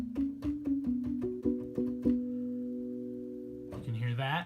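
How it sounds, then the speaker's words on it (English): A retro synth plays on its own: a string of bright plucked notes in quick succession, then a held tone that fades before a brief rising flourish, fairly quiet. "I went and used this retro synth that,"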